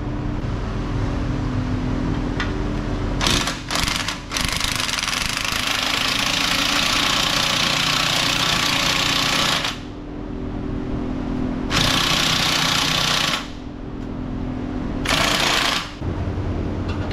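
A big air impact wrench with a 13 socket rattles in long loud bursts as it backs off exhaust bolts under a 2016 Silverado pickup, with short pauses between runs and no talking.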